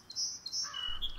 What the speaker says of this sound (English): It seems one song sparrow is feeding the other.